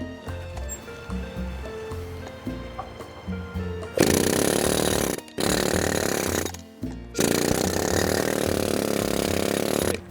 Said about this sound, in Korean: 이거 에어로 지금 쓰는 거거든요